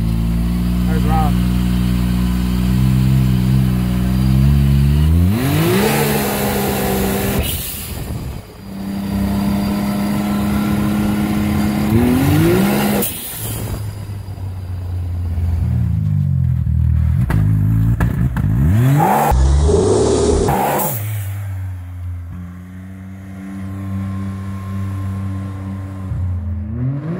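A car running E85 fuel revs hard on a dyno, its engine climbing in pitch through repeated loud pulls with clattering between them, close and dominating the recording.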